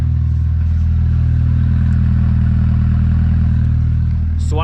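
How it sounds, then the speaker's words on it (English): A 2003 Volkswagen Jetta 1.8T turbo engine with the muffler deleted runs with a loud, steady, droning exhaust rumble close by, holding an even note throughout with a faint rattle near the end. "Really nice sound at idle, tons of turbo noise when you rev it, and nice little like pops up top."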